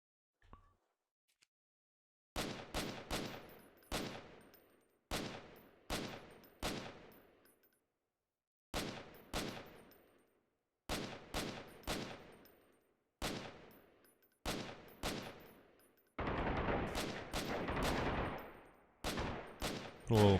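Gunfire in the video game Freeman: Guerrilla Warfare: sharp single and paired shots with short echoing tails, spaced across silent gaps, then a sustained automatic burst near the end.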